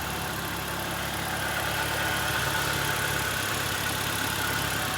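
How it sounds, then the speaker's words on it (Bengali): A 2001 Nissan Sunny with a 1300cc engine idles smoothly, giving a steady, even hum with no voices. "ইঞ্জিনের সাউন্ড খুবই স্মুথ।"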